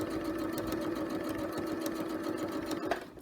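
A sewing machine stitches a zip into a cushion, running with a steady continuous whir and needle buzz throughout, close and alone.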